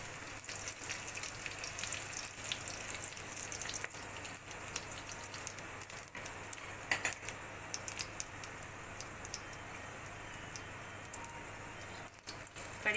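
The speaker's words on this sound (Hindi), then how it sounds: "क्रश किया हुआ अदरक थोड़ा सा इसमें भूनूंगी" Crushed ginger fries in a pan with mustard seeds, giving a steady, fairly quiet crackling sizzle with small pops throughout.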